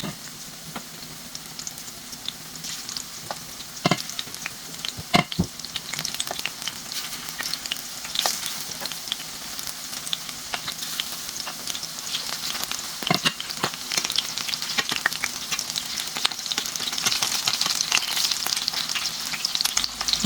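Egg-battered chicken breast fries in a pan with a steady, close sizzle and scattered pops and crackles that continue throughout without a break.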